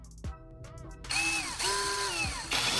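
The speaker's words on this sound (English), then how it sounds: "I'm inserting a regular drill bit into my power drill to show you how it spins normally." A power drill spins a regular drill bit. A few short trigger blips come first, then a loud sustained motor whine that changes pitch as it revs up and holds.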